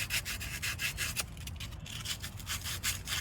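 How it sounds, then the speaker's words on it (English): Sandpaper scrubbing rust out of a hole in the front suspension of a 1998 K1500 pickup, fast rhythmic back-and-forth rasping strokes, close and steady, with no talking. "It takes some sandpaper. Clean this hole out a little bit."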